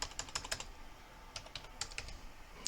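Quick, light plastic taps on calculator keys as numbers are entered, irregular bursts of close clicks with short gaps, quiet and alone with no voices.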